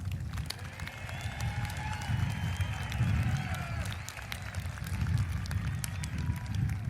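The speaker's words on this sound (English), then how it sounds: "let's give our graduates a big round of applause" Graduation audience at a 2023 high school commencement claps and cheers for the graduates, a sustained roar of applause with crowd voices swelling and easing.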